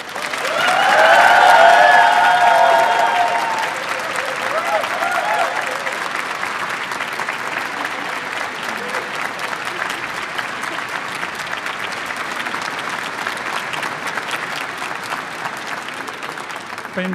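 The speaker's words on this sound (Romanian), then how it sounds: "Mulțumiri mari și aplauze puternice" Loud, sustained applause from an audience in a cathedral after a carol concert by a youth choir, swelling at first and then settling into steady clapping with reverberant room sound, no talking.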